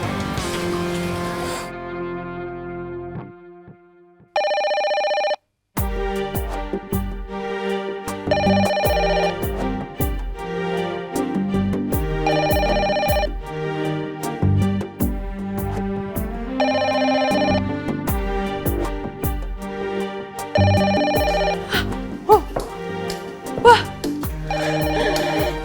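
A telephone rings loud and close in repeated bursts, with an electronic ringtone pattern running over a busy, music-like background; there is no talk over it.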